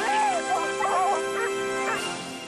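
Dogs in a film trailer yip, whimper and bark in short excited bursts, close and clear, with speech faintly mixed underneath.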